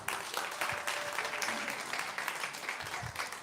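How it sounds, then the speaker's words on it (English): A sustained, full round of audience applause, dense, continuous clapping at moderate loudness with no break, filling the room evenly from start to finish. "Please, more hands of applause."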